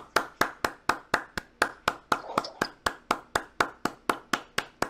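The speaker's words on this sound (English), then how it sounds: "is that clapping? That's clapping" Hands clap heard through a phone call, about seventeen sharp, evenly spaced claps at a steady rhythm, fairly faint and alone, with no talking over them.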